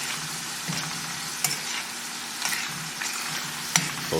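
Ground meat cooks in a pan for Manwich sandwiches, making a steady close sizzle and hiss with a few scattered scrapes and stirring knocks.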